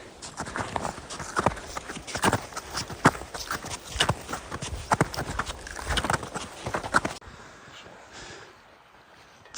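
Horses walking on a trail during a five-day climb of Mount Kazbek, hooves clip-clopping in a steady uneven rhythm, fairly close and loud, then fading away to quiet in the last seconds.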